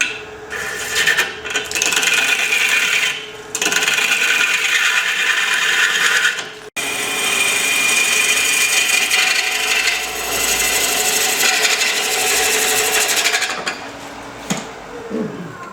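End grain wood being turned on a lathe with a ring tool, a loud continuous scraping and rasping cut with brief pauses and a short break midway, no talking.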